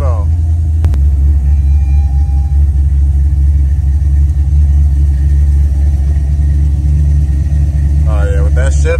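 A 1988 Monte Carlo SS on the road, its engine giving a steady, heavy low rumble from inside the cabin throughout, with a brief voice near the end.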